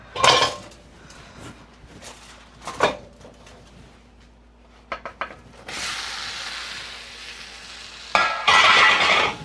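Focaccia bread is flipped in a pan with a few sharp utensil clanks and knocks separated by quiet gaps, then a louder burst of frying sizzle as the other side meets the hot surface.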